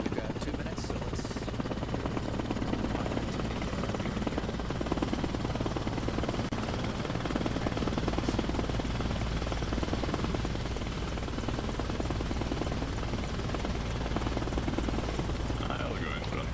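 A video game helicopter drones steadily throughout, a constant whirring rotor rumble with a buzzing high-frequency layer, while people talk over it.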